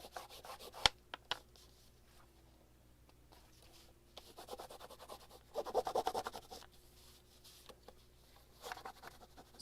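A hand rubs paper flat on a junk journal page, making soft brushing and scraping strokes in short bursts, with a few sharp taps and a low background hum.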